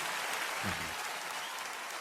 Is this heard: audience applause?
yes